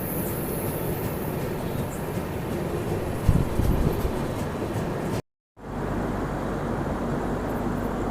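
A passenger train from Yesvantpur at Coimbatore Junction railway station gives off a loud, continuous rumble, broken once by a brief total silence.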